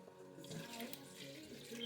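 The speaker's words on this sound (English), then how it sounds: "we're gonna add 2 cups of water" Two cups of water pour into a pot of sauce for smothered chicken, a steady running splash heard close and alone through the whole stretch.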